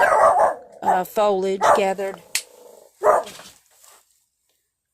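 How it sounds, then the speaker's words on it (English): A pet dog barks indoors in a few short, sharp bursts, close and fairly loud, mixed in with a person talking nearby. "Sorry, that was my dog."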